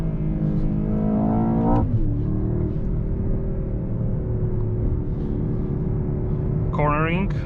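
A 2024 Mercedes-AMG S63 sedan with its V8 pulling hard under acceleration, a loud close rumble rising in pitch through gears with a shift near the start and another climb at the end.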